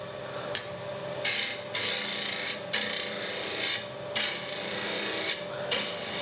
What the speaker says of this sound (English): So remember that sort of scraping action.